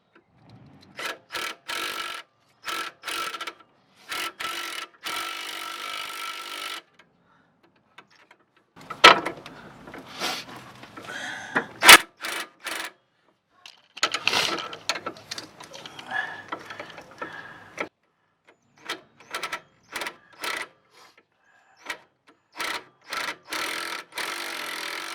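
A socket wrench turns a bolt on the sway bar of a 2010 Ford Edge, giving close, repeated ratcheting bursts separated by short pauses, with scraping handling noises in the middle.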